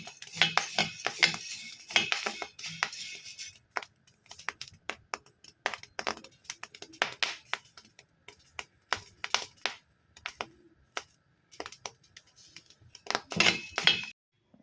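Wheat grains dry-roast in a pan on a low flame, giving a dense run of small, irregular crackles and ticks, like light clinks, that go on close by throughout with no talk.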